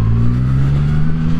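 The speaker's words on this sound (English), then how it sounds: "It still sounds like a triple, but it sounds like a big, kind of smooth tractor engine or some kind of big Scania truck engine" A 2024 Triumph Rocket 3 R Storm motorcycle with a large triple-cylinder engine accelerates in a brief, loud burst, its deep, smooth engine drone close up and alone.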